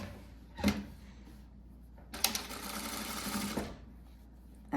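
A sewing machine stitching the first fold of a narrow handkerchief hem along the outer edge of a blouse fabric, one short sharp burst followed by a steady whirring run of about two seconds, close and alone.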